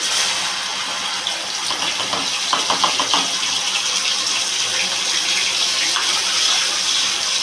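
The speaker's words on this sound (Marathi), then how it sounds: "हे जे आपण चणे शिजवले त्याचं पाणी आपण काढून द्यायचं नाही, असंच टाकून द्यायचं त्याच्यामध्ये" Chickpea cooking water poured into a pan of sizzling raw onion paste for chole, a steady close watery gush with faint crackling underneath, no voices.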